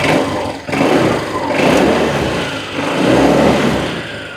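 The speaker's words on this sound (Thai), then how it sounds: "นี่เสียงเครื่องเงียบๆนะครับลองเร่งเครื่องกันสักนิดนึง" A Honda PCX 150 motor scooter engine, 2020 model, stock exhaust, revs up several times, rising and falling in pitch, loud and close with no talking.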